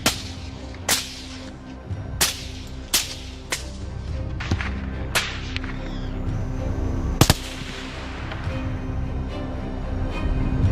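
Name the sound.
rifle gunfire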